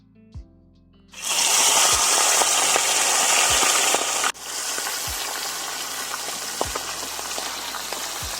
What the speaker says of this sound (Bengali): কড়াইতে দিয়ে দিচ্ছি সরষের তেল মাছের মাথাটা ভাজার জন্য।